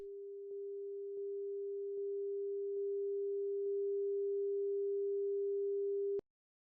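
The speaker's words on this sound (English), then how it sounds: "The sine osc is still chugging away." A pure SuperCollider sine oscillator tone hums quietly and steadily for about six seconds, with faint clicks now and then as its level is nudged upward. It stops abruptly at the end.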